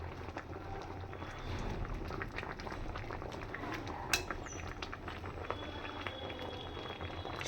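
Spinach leaves simmer in a covered pot of boiling water for palang paneer, a soft, steady bubbling hiss with a single faint clink partway through and no voices.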